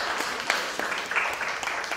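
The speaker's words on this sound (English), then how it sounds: "let's give another big round of applause" An audience at a Women's Entrepreneurship Day celebration gives a dense, steady round of clapping that carries evenly through the whole moment.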